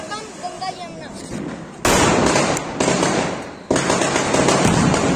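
Anar firecracker fountains set off one after another during outdoor cracker testing, each igniting with a sudden loud hissing, crackling roar that sustains for seconds, close by and filling the scene.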